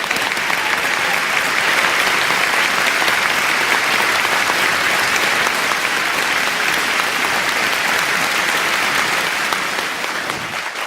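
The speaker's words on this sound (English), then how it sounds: "Please do one more thank you applause." Audience applause at an environmental heroes gala fills the space with dense, sustained clapping from a large crowd, steady and loud before easing slightly at the end.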